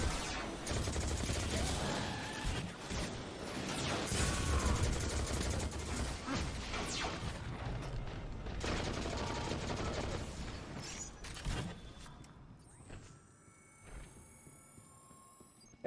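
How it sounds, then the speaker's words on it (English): Automatic rifle fire in a sci-fi first-person shooter video game, loud rapid bursts running almost continuously for about twelve seconds, then thinning out to scattered quieter sounds. "I appreciate auto rifles."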